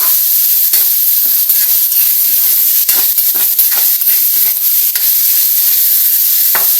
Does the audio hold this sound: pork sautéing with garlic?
yes